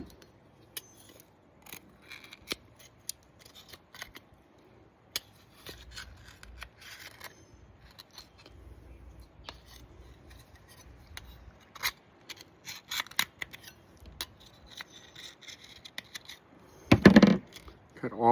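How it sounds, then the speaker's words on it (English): Pismo clams are being cleaned with scissors, giving sparse, quiet snips and clicks of blades cutting through the adductor muscles, with faint scraping between and a louder burst of handling near the end. "I'm going to cut the abductors, and that would be this muscle right here"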